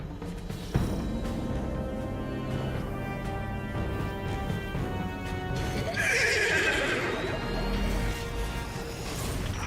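The Astral Horse in the sci-fi shooter Destiny 2 lets out a loud, drawn-out neigh over a backdrop of game music and hoofbeats, with a second bright whinny rising later.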